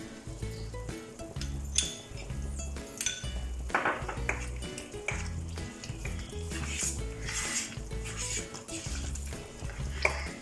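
Halwa mixture with ghee stirred in a pan, rhythmic scraping and tapping of a spoon repeating steadily over a low, regular thumping background beat, close and moderate in level.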